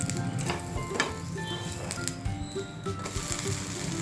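Oil sizzles softly under an amboli, a rice-and-lentil pancake, as it crisps on a hot pan, with a few faint scrapes and clicks, close by and without talk.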